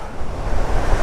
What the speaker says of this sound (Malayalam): വല്ല കാറ്റടിക്കുന്നുണ്ട് കേട്ടോ